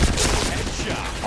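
An MP5K submachine gun fires in a shooter video game, a dense, loud, rapid burst of shots filling a short moment, with a voice talking over it.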